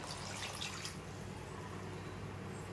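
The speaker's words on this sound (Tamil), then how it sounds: "இந்த டைமில் ஒரு சொம்பு அளவுக்கு தண்ணி ஊற்றிக்கலாம்" Water is poured from a pot-sized vessel over duck meat in a cooking pot, making a steady splashing, rushing pour that is brighter at first and then settles into a continuous wash.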